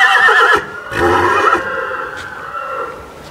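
Mare neighing loudly and close by, a long quavering whinny followed by shorter snorting calls that fade out.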